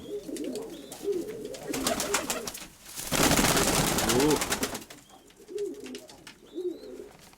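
Domestic pigeons kept in pairs in a fancy-pigeon loft coo softly and repeatedly, with a louder burst of rustling and flutter in the middle.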